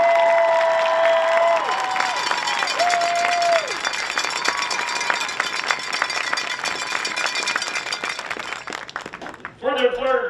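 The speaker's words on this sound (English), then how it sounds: "How about a round of applause for this year's team?" Crowd applause at a high school varsity football game, clapping and cheering for the team in the stands: a steady wash of clapping lasts several seconds, with whistle-like tones over it early on, before fading out near the end.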